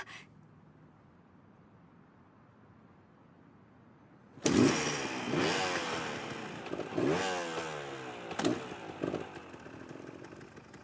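A motorcycle engine starts abruptly after near-silence and revs loudly up close, rising and falling in pitch with sharp throttle bursts, heard alone without voices.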